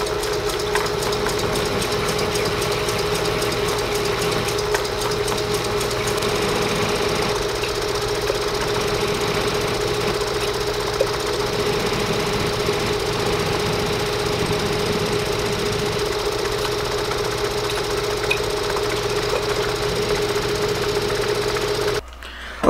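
A metal lathe turns a part for a homemade tool with a steady, loud mechanical drone and a constant tonal hum throughout, close and without talk, cutting off abruptly at the end.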